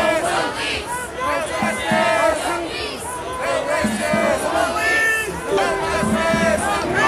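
A sizable protest crowd gathered at night outside the Justice Center in Portland, steady dense chatter and scattered shouts filling the air continuously at moderate distance.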